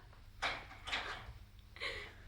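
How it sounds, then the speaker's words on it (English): Indoors, a door is opened in three separate bursts of rattling and clunking, spaced out over a couple of seconds. The sounds are moderately loud and near, and no one speaks. "I'll just open the door."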